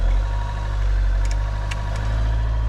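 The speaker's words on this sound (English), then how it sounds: "I'm going to start it up and we're going to use this rod here to pick up the revs" A Volkswagen Caddy engine with a leak idles steadily with a deep, constant rumble and a few faint high clicks, without a clear rise in revs.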